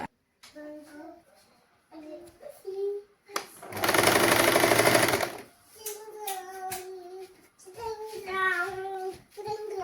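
Sewing machine stitching the lining and piping of a saree blouse: a loud mechanical whirring run lasting about two seconds, with a child and an adult talking before and after it.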